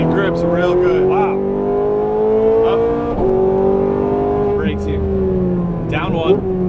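A Ferrari 430 Scuderia engine revs on a race track, its rising and falling whine heard up close from inside the car as it shifts through gears. A driver talks over the engine in places.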